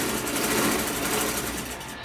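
A sewing machine runs continuously while stitching an umbrella cocktail dress, a dense, fast mechanical whir heard up close without pause for about two seconds.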